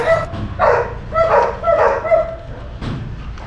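Dogs bark outdoors in a quick series of four or five loud, close barks with short pauses, ending with a fainter yelp.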